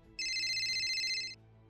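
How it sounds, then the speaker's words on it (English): A phone rings for an incoming call, sounding one steady, trilling electronic ring of about a second, fairly loud and close over a soft background hum. "I'm getting a phone call."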